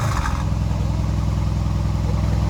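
Stock exhaust of a 2021 Mercedes-AMG GLC 63 with the valve open, heard close up as a loud, deep, sustained rev with a rough burbling rumble.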